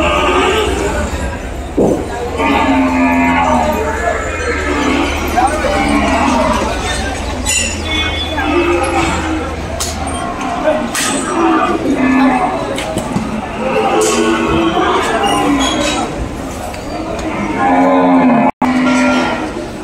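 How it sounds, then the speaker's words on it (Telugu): Cows lowing at a busy cattle market in Kodada, repeated loud moos close by, one after another, over a crowd murmur and scattered talk. "అన్నీ ఆవులు."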